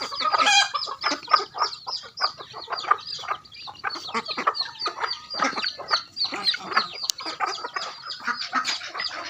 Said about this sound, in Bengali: এই যে দেখেন আমার হাঁস মুরগিরে খাওয়া দিতেছে।